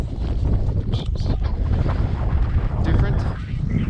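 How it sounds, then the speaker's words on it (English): Strong wind buffets the microphone on a hillside path crossing a sloping golf course at Howth, Ireland, a loud, constant low roar with gusty swells; a voice speaks briefly. "Again, I'm in a wind tunnel"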